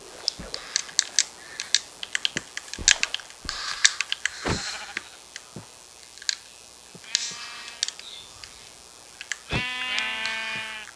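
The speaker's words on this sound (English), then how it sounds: "We're killing these sheep." Sheep bleat in a video game, one long wavering bleat near the end after a run of sharp clicks and hits, with no talk.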